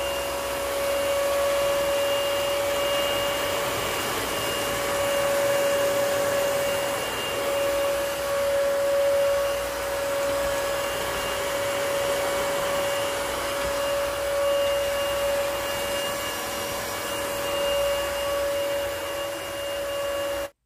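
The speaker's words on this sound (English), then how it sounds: "the stick vacuum slash mopping system is able to handle a variety of different debris, also different floor types" A BOBOT stick vacuum mop cleaning up spilled milk and cereal on a floor, its motor holding a steady, loud whine with a constant high tone for the whole stretch, no voices.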